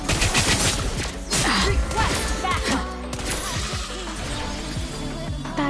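Rapid bursts of gunfire from Granger in the mobile game Mobile Legends, loud and dense, with repeated sharp shots and impacts layered over game music and effects throughout.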